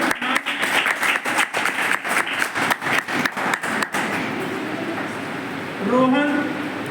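A crowd bursts into rhythmic applause at a prize distribution ceremony for an inter-college sword-fighting competition, clapping briskly for about four seconds before dying away under a single voice announcing.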